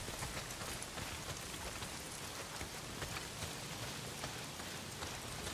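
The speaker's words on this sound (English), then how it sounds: "not if it's pissing down rain" Heavy rain pours steadily in the video game Days Gone, a dense, loud, unbroken hiss of drops striking surfaces with no voices.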